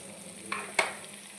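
Tempering of dried red chilies, asafoetida and turmeric frying in hot oil, a soft continuous sizzle with two brief spatula scrapes, close and quiet.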